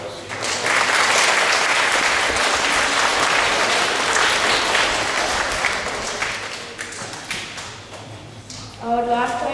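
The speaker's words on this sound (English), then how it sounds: "Can we please give these worthy award winners a round of applause?" Sustained loud applause from a school assembly audience for award winners at a K-12 presentation day, a dense crowd of clapping that tapers slightly toward the end.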